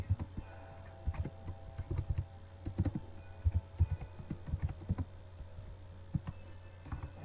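Quick, uneven keystrokes on a computer keyboard tap in short bursts, close and clear, with no talking.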